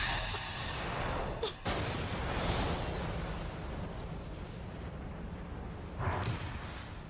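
A flashbang sound effect from a played video: a sudden bright burst near the start, with a second burst toward the end, over a dense, rumbling background of battle-like noise.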